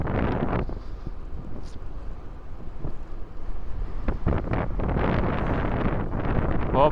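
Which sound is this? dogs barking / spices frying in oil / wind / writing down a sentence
wind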